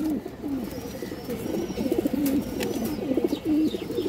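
An old male pigeon, a red-eyed boot-beaked bird, coos in repeated low rolling phrases, close and clear, with faint chirps and background noise around it.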